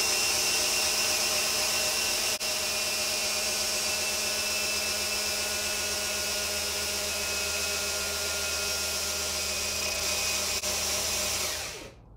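A cordless drill runs steadily at high speed with a constant whine, then winds down and stops at the end, while priming the oil system of a new car engine.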